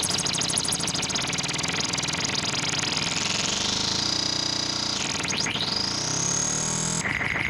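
An Arturia MicroFreak synthesizer with a cycling envelope sweeping the filter cutoff, a loud buzzy tone whose bright band rises and falls in repeated sweeps and swoops, with a pulsing, gritty texture throughout and no talking.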